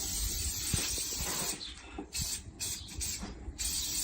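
Cooking oil sprayed onto a hot barbecue: a steady, broad hiss of spray against a low sizzle, with short pauses and bursts as the spraying stops and starts.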